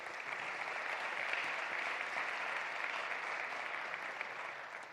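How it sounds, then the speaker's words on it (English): Sustained applause from a large audience at a conference closing ceremony, dense and steady clapping throughout at an even loudness, easing slightly toward the end. "Let's join them and get a nice applause for all the support in this journey"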